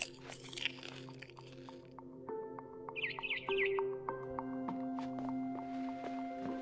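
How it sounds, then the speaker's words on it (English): Bird chirps outside a window in a video game, a short burst of bright twittering tweets in the middle over a steady tonal game soundscape with soft clicks. "Then I heard chirping outside my window."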